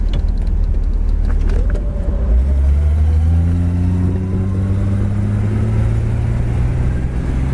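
A white 1966 Ford Mustang convertible cruising down the road, its mid-pitched engine humming steadily up close and rising through a couple of gear pulls over constant road and wind noise.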